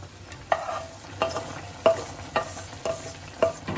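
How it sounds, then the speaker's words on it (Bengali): Fried cashews and raisins are stirred into simmering orange chutney in a pan, making soft scraping and sizzling sounds with regular stirring strokes roughly every half second, close and clear with no talk. "এবার আমি এর মধ্যে যে কাজু কিশমিশটা ভেজেছিলাম এই কাজু কিশমিশটা দিয়ে দিচ্ছি"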